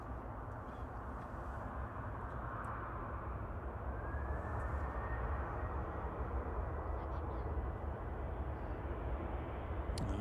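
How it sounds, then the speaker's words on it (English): A Ryanair Boeing 737-800 jet departs Manchester Airport bound for Prague, heard as a steady, broad engine roar that holds without a break from start to finish. "Ryanair 6838 to Prague, departing now."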